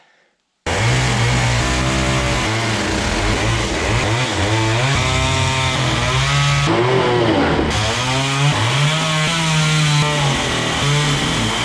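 A loud power saw cuts through wooden boards while a house is being pulled down, its motor droning and rising and falling in pitch as the blade bites and eases, close and continuous.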